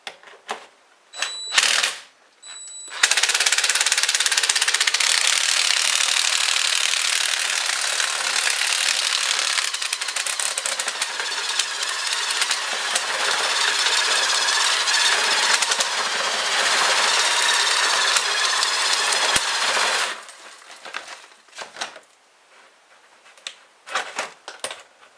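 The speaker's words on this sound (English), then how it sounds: "put it back on your drill and give it a spin" A power drill spins flexible chimney sweep rods inside a flue, giving a loud, continuous rattling whir for about seventeen seconds before stopping, with brief clatter before and after.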